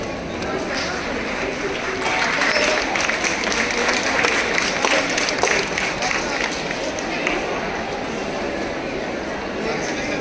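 Students and guests clap at a government high school's national science fair prize distribution, a loud sustained applause of many hands with crowd noise and voices mixed in, swelling slightly midway then holding steady.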